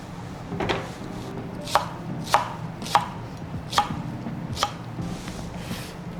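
A kitchen knife chops shiitake mushrooms on a board for tomato shabu-shabu: about six crisp, evenly spaced chops, close and clear over a low background hum.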